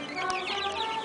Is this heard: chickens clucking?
yes